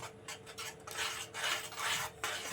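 Mango barfi mixture is stirred in a pan, a continuous near scraping and rasping with repeated rhythmic strokes, fairly quiet and with no talk.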